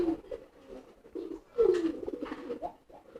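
Pigeons coo softly and repeatedly at close range, with a louder throaty coo partway through and quiet rustling between calls.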